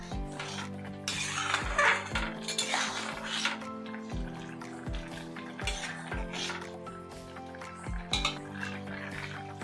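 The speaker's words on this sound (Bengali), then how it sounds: "এখন নেড়ে নিচ্ছি।" Egg tadka is stirred in a pan. A spoon clinks and scrapes against the metal in irregular strokes over a soft bubbling simmer, close by, with no talking.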